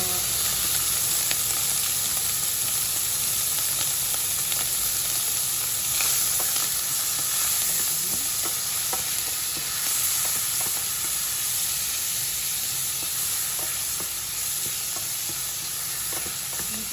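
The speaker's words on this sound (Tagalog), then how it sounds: "Brown lang natin yung pancetta." Pancetta browns in a hot pan for lasagna, a dense, even sizzle and crackle of frying fat that carries on steadily at close range with occasional stirring scrapes and no voices.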